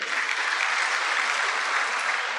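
Conference audience applause in a large hall, a dense, even wash of many hands clapping, steady and loud from start to end with no voices on top.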